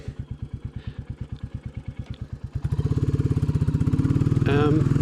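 Royal Enfield Bullet motorcycle engine, first a slow, even single-cylinder thump at idle, then revving up into a faster, louder pulsing beat, close by with a voice briefly over it.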